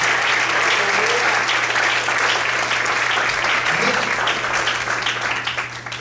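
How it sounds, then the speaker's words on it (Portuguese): A church congregation applauds during an evening service, a dense, steady wash of clapping that fills the whole stretch and fades slightly at the end, with some voices mixed in. "Você pode desocupar a sua mão e aplaudir ao Senhor nesta noite."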